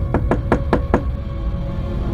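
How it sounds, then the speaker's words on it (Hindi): Five evenly spaced knocks rap on a door in a quick, steady rhythm, then stop, leaving a low background hum in a horror story sound effect. "इतने में दरवाजे पर दस्तक होती है।"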